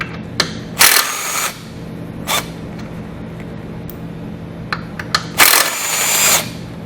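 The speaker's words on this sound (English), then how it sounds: "I'm going to grab a 13mm socket, and we're going to pull 4 of these out," A 13mm socket on a power tool backs out bumper beam bolts on a 2018 Chevrolet, with several short loud whirring bursts separated by quieter pauses and small clicks.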